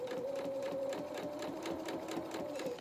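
A sewing machine stitches a faced lining seam at a neckline in dressmaking, running at a steady close hum with a fast even needle rhythm throughout.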